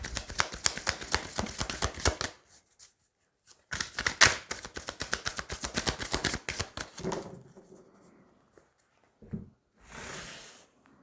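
A deck of tarot cards is shuffled in quick, crisp riffling runs, close and quiet, broken by a pause and followed by a few soft card slides and taps.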